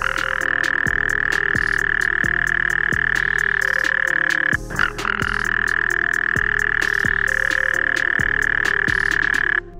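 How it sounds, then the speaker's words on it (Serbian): Mysterious underwater croaking sounds likened to frogs, a steady loud tonal drone broken by repeated regular clicks and pulses, with a brief gap midway before the pattern resumes, no voices. "Ti zvukovi, kada se temeljno slušaju, podsjećaju najviše na kvakanje, odnosno kreketanje žaba"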